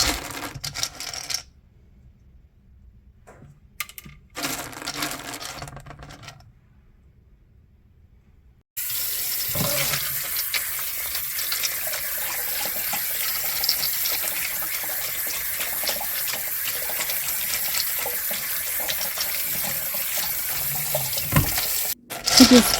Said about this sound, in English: I just gave them another quick rinse and then kind of just stirred them around to get the excess water off.